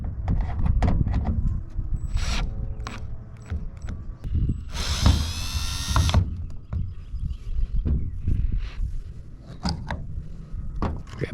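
A power tool briefly whirs while tightening down a part on a Ford F600 truck, a loud burst midway amid clanks and mechanical clatter in a workshop.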